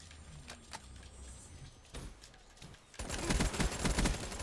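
Gunfire in a first-person shooter video game: scattered single shots, then a loud, dense fusillade of rapid automatic fire toward the end.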